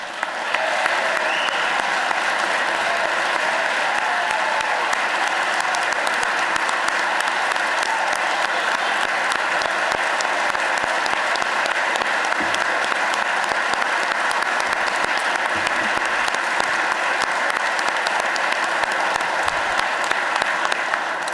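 An audience at a state budget address applauds first responders with steady, dense clapping that carries on loudly and evenly for about twenty seconds, with no talk over it.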